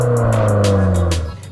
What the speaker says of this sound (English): The engine is feisty, especially when in sport mode, crackling and popping out back.